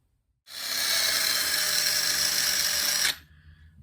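A power drill bores a hole in the cigar box body of a 3-string cigar box guitar, a single loud steady whine lasting nearly three seconds, close up, then dropping to faint rattling.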